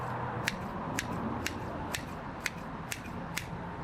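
Garden shears chop through a bucket of seaweed with a brisk series of crisp snips, about two per second, close and sharp over a soft background hiss.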